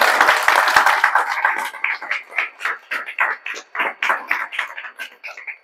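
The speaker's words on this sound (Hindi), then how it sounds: "इसके लिए जोरदार ताली आप लोग बजा दीजिए।" An audience claps for students who scored above the 99th percentile in JEE Main 2025. Loud applause starts dense, then thins into a few hands clapping in an uneven, repeated rhythm with no voices over it.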